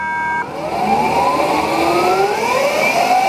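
A Deux 7 electric motorbike accelerates, its motor whine climbing steadily in pitch through several layered tones, loud and close, with road rumble underneath.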